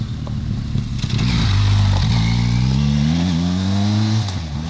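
A 2018 Benelli TRK X motorcycle accelerates along a road through Normandy farmland, its engine loud and close, the pitch rising steadily through the gears as the rider pulls away.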